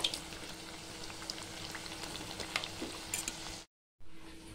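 Thattai, flat rice crackers, deep-frying in hot oil give a steady, soft bubbling sizzle that runs evenly, with faint crackles, before it cuts out to near silence.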